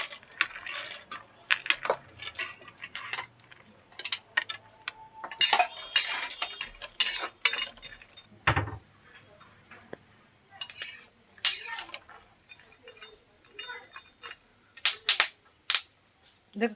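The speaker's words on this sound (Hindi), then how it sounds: "चट चट चट चट बादाम भुनने की।" Almonds crackling as they roast in ghee for gujiya filling: dense irregular pops and sharp snaps, close and fairly loud, with occasional metallic pan clinks and no clear talking.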